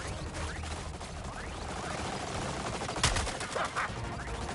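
Rapid bursts of gunfire in the Suicide Squad: Kill the Justice League video game, steady automatic shooting throughout with a sharper loud crack near the end.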